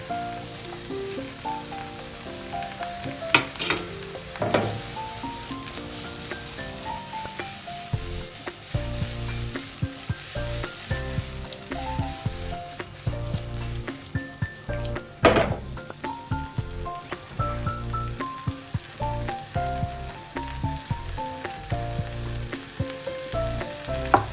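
Corn kernels frying in a pan for a vegetable omelette, a steady sizzle running throughout with occasional sharper crackles and clinks, close up, under a prominent background music track.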